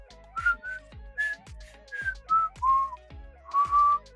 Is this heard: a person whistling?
yes